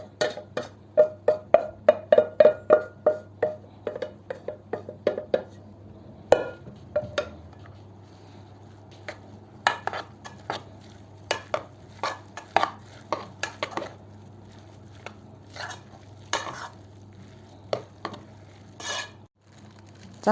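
Cooked meat and vegetables stirred in a pan, a run of rapid close taps and scrapes that thins into scattered, sporadic knocks of utensil on cookware over a faint low hum, with no talk.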